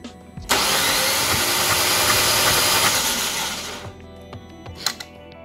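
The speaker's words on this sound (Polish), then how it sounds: "Na wyłączonym kluczyku wciskam pedał przyspieszenia do oporu i załączam zapłon wraz z rozrusznikiem" A Fiat 1.4 8V petrol engine cranks on its starter with the throttle held fully open and the ignition off. It gives a loud, even, whirring churn for about three seconds that stops abruptly, followed by faint clicks.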